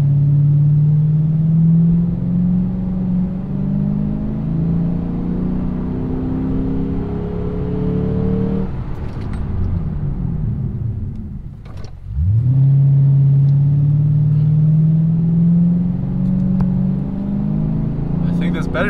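A Lexus RC F is driven during brake bedding, its engine droning loudly and steadily inside the cabin. The engine winds down as the car slows hard, then picks up again, while people talk.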